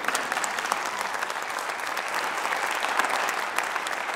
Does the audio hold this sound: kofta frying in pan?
no